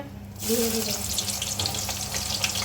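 Tomatoes are rinsed under a running kitchen tap: a steady, close splashing stream of water starts abruptly and keeps hissing and spattering without a break.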